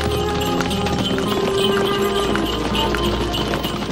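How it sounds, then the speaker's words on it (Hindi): Horse hooves clip-clopping in a steady trotting rhythm as the animal pulls a tonga, a horse-drawn cart, in a radio drama, close and continuous over a low rumbling background. "अब्बू और उसका घोड़ा चन्नी दोनों बस एक हैं, बल्कि सारा तांगा एक हस्ती है"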